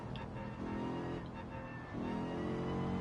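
A Toyota Supra race car on hard tires at Daytona Road in a racing video game, its engine a steady moderate drone with a brief dip before revving back up.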